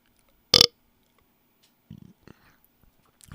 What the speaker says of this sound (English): I just burped and hiccuped at the same time